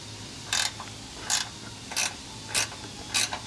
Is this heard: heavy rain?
no